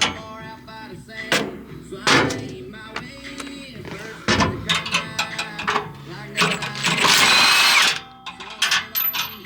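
A power tool works a bolt loose on a John Deere 245G excavator, with loud bursts of whirring and ratcheting separated by short pauses, mixed with metallic clanks and a long, sustained run near the end.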